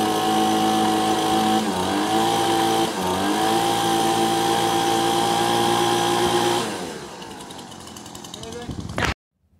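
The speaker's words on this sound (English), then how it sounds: "I took my leaf blower and I actually put it in the rain spouts where the gutters that come down, and I blew it all the way up." A leaf blower pushed into gutter rain spouts roars loudly and steadily, its pitch dipping a couple of times, then dropping away as it shuts off, followed by a short clatter and silence.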